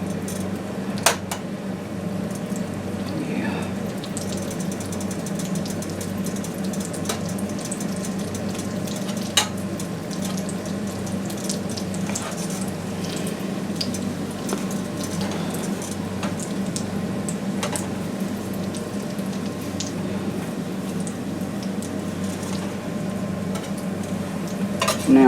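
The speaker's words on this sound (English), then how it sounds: "Now they're starting to simmer." Fried apple pies cooking in hot oil give a steady, even sizzle for the whole stretch, with faint scattered clicks and scrapes from a utensil near the pan.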